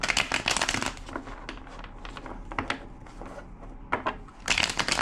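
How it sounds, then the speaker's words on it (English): A deck of cards riffled and shuffled repeatedly, crisp rapid fluttering bursts close by with brief pauses between. "2 more shuffles."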